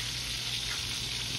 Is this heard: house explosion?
no